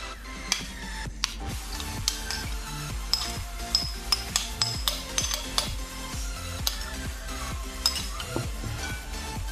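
Soaked semolina, sugar and half a spoon of baking soda being mixed into bhature dough in a bowl, with repeated rhythmic stirring and scraping knocks and occasional utensil clinks, close and steady with no talking.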